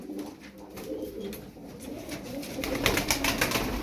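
Pigeons coo steadily throughout, a low rolling murmur of several birds close by, with no talking.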